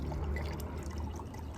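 Topo Chico mineral water pours into a glass in a quiet, continuous trickling stream with fizzy gurgle, steady from start to end and alone without talk.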